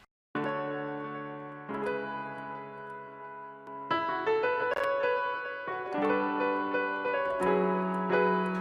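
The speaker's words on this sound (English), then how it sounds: "I've already showed you the beat without the mastering effects on it" An unmastered music beat, dry and without mastering effects, with stacked sustained chords that change every couple of seconds and a busier, more rhythmic second half, with no voices.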